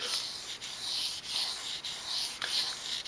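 A knife sharpened on sandpaper, long even rasping strokes repeated about five times in a steady rhythm, each a broad hissing scrape with brief gaps between, close and fairly loud.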